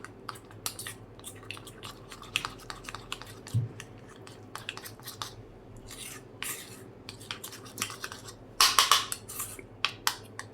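Spoon mixing a honey face pack in a small bowl gives sharp, irregular clicks and scrapes, close by, with a burst of quicker taps near the end and no talking.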